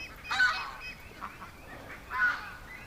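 Ducks near a bush give two loud, harsh honking calls about two seconds apart, close by with faint outdoor background between them.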